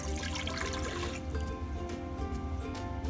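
About one and a half cups of water pouring and trickling into a pot, a fuller rush at first that thins to lighter splashes and drips, fairly close, with no talking.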